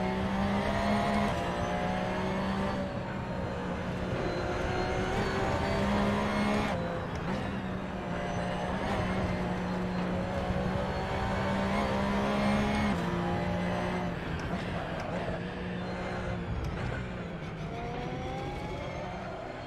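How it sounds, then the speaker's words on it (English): Race car engines in the Assetto Corsa racing game at the Nordschleife, steady and fairly faint, droning and whirring through repeated gear changes with brief dips, no talk. "this car at the front does a really nice sound"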